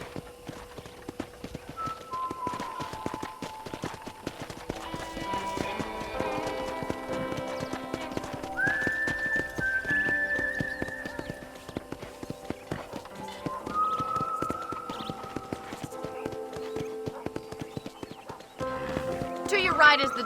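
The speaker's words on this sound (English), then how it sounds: "I picked out a fine horse for you." Horse hooves clip-clop steadily in the Red Dead Redemption video game, with a whinny partway through, mixed under game music and a speaking voice.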